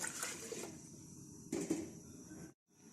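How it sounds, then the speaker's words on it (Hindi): Water, about two jugs, splashes and gurgles steadily into a pressure cooker on the stove, a continuous pouring rush that breaks off briefly near the end before resuming. "अब इसमें तकरीबन 2 जग पानी ऐड करेंगे।"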